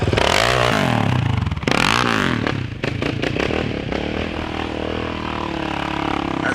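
A motorcycle engine revs loud and close, rising and falling in repeated throttle bursts over a steady rough idle, with scraping and clattering as the bike struggles for grip.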